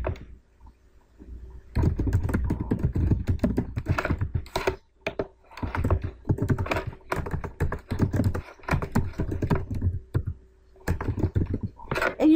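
Fingers type on a computer keyboard in quick, uneven bursts of close clicking keystrokes, with brief pauses between runs.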